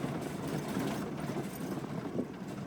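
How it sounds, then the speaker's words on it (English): A 4WD rattles over sand track corrugations, a dense, continuous low rumble and buzz of vibration with wind noise, close and steady throughout. "Bit of rattling as you can hear."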